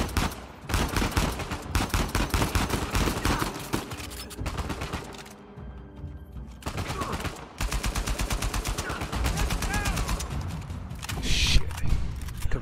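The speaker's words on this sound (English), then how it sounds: "Those are AK bullets." AK rifle gunfire in the video game Uncharted 4, dense bursts of automatic shots and rapid fusillades, loud and close, broken by a short lull midway, with no talk.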